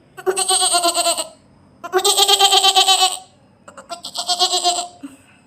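A small boy mimics a goat, producing three long, quavering bleats with a wobbling, laugh-like vibrato. The voice is close and fairly loud, with short pauses between the calls.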